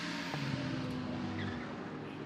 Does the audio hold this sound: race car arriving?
yes